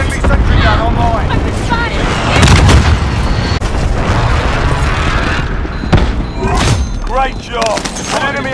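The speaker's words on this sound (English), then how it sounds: "Be advised, friendly precision airstrike inbound." Call of Duty Modern Warfare Warzone team deathmatch gameplay with airstrike explosions and gunfire: dense, loud booms and bursts of shots roll on continuously, with game voice lines over the din.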